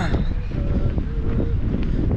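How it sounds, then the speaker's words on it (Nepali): Wind buffets the microphone outdoors in Mustang, a loud low rumble that goes on without a break, with faint voices mixed into the gusts. "अडियो नै राम्रो आउँदैन जस्तो छ यहाँ हावा नै हुई हुई आइरहेछ"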